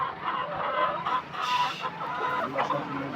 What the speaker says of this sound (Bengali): একটা মুরগি আমার